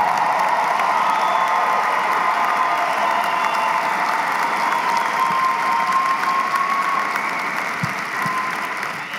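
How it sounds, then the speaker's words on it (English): A large graduation audience in a business-school commencement applauding, a dense, sustained wash of clapping from a big crowd with faint cheering, steady throughout and tapering slightly at the end. "stand up while we applaud your accomplishment"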